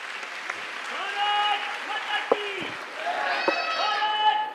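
Applause from the audience at a Sanatan Mahasammelan, a Hindu religious convention, welcoming the chief editor of Darshan News to the stage. Steady crowd clapping runs throughout beneath a voice or tonal music that rises and falls over it.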